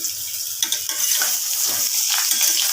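Potatoes frying in a small amount of oil for aloo dum, a close continuous sizzle with soft stirring scrapes and bursts of crackle, no talk.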